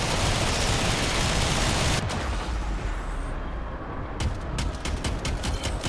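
Weapons fire in the video game Warframe comes as dense, noisy bursts of gunfire. A heavy rushing barrage fills the first seconds, then lighter scattered shots follow at moderate volume.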